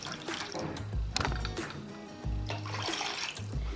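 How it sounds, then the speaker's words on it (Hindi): Water is poured into a cooking pot while making Karachi-style sohan halwa, with intermittent splashing gushes and clinks in short bursts, fairly close. "तो 1/2 लीटर मैंने पानी डाल दिया है"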